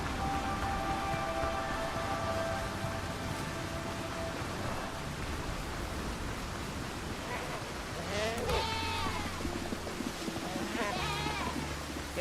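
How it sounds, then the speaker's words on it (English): Goats in the video game Windrose bleat in a few wavering calls near the end, set against a dense, constant hiss of game ambience that resembles rain. "Gonna ignore these goats for now."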